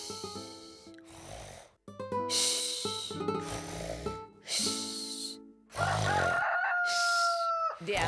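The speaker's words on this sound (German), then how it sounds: "Der Hahn hat gekräht, Prinzessin Holly." A cartoon rooster crows in several long, musical, drawn-out calls separated by brief pauses, loud and close, with a snorting, snore-like quality between the calls.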